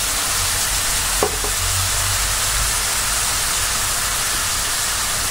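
Sliced onions and green chillies sautéing in oil in a pan for paneer masala, a loud steady close sizzle with a brief clink of stirring early on.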